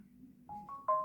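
Samsung Galaxy phone's 'Bright line' notification alert: three short, clean electronic tones rising in pitch in quick succession, the last one brightest and held, ringing over a faint low background hum.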